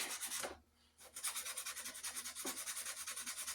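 Wood on an axe handle corner is rasped in quick, close strokes: a short scrape, a pause, then a run of rapid rhythmic rubbing passes.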